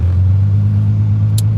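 A car engine runs at a steady low idle with a deep, constant hum close by, and a brief high click near the end, after it has started up at a vehicle impound.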